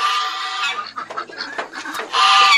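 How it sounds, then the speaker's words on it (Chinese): A turkey gobbles and clucks close by among farm fowl, loud and choppy, with a brief lull in the middle before the bird calls again. "哇，火鸡啊！"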